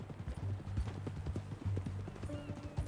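Horse hooves clip-clop at a steady walking rhythm in the Red Dead Redemption 2 video game, close and moderately loud, with low game ambience underneath and no talk.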